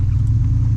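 An OBS-era pickup truck drives along, its engine giving a steady low rumble with road noise, close and moderately loud, no talking.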